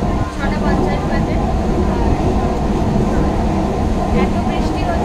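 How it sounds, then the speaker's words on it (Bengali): Steady loud rumble of a moving evening commuter train heard from inside the carriage, a continuous low roar with rattling, running unbroken throughout with no clear talk. "আমরা এখন ট্রেনে 6:25 ট্রেনটা ধরেছি"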